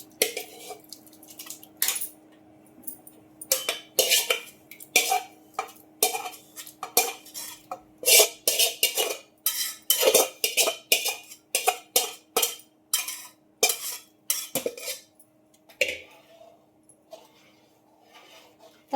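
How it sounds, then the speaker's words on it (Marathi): A ladle or spoon scraping and knocking through thick bajra (pearl millet) batter in a metal pot, with repeated irregular clinks and scrapes that quicken and crowd together midway, close and fairly crisp, no talk. "ते पातेल्याला चिटकल त्याच्याकरता आपल्याला सारखं ढवळावं लागेल त्याला"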